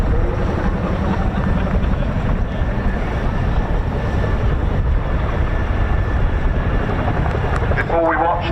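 A Chinook twin-rotor helicopter performs at the RAF Cosford air show with a loud, dense, sustained rotor and engine drone and a faint steady whine, while a commentator talks over the noise.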